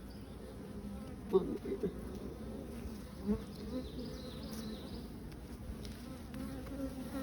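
Honeybees swarming around an open hive box while a frame is eased back in, a dense continuous buzz close by with a few soft knocks and a brief spoken word.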